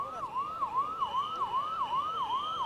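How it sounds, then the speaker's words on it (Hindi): Ambulance siren wailing near LNJP hospital in New Delhi after a railway station stampede, a steady repeating up-and-down electronic sweep over a constant hum of street noise, loud and continuous. "एम्बुलेंस का सिलसिला जो है वो थम नहीं रहा है"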